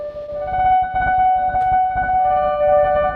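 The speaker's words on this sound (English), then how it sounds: "becoming almost like a resonant reverb. Like a very lo-fi one." A sustained guitar tone through a Bathing Liminal delay pedal, smeared into a grainy, resonant wash like a cheap lo-fi reverb, with ringing overtones and a steady loud level throughout.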